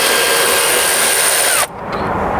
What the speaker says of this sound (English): you want to go ahead and get yourself a 10mm socket to go ahead and remove them